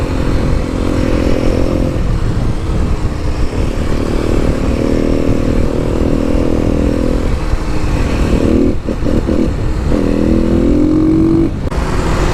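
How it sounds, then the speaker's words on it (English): A 2021 Kawasaki KLX300 dual-sport motorcycle run hard on backwoods roads in Mexico, its engine a loud, continuous drone with pitch rising through gears, buffeted by heavy wind rush throughout. "hop on the bike, get to a safe place in the backwoods of Mexico, and go ahead and romp on the throttle"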